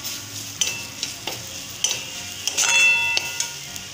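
Spices with chili powder, green chilies and ginger stirred in a frying pan, giving a series of soft scraping clicks over a faint low sizzle, close and fairly quiet, with no talking.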